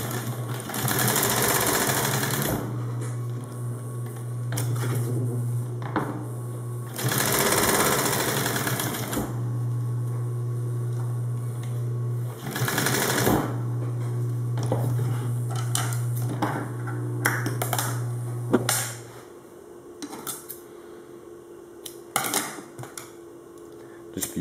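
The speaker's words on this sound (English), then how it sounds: "you're going to run a double stitch down the end to join" A sewing machine runs a double stitch along elastic for an inside-the-waistband tourniquet holder, in several steady bursts of rapid mechanical chatter separated by short pauses, close and clear with no talking.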